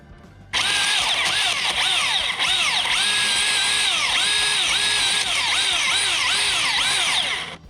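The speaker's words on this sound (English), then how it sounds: "go ahead and use the drill" A power drill whines loudly and continuously during tree removal, its pitch wavering up and down as it bites, running for several seconds before cutting off.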